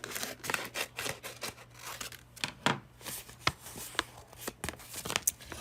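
Scissors snipping through a sticky stabilizer sheet to cut it in half, a close series of sharp, irregular crisp cuts and rustles, steady throughout with no talk.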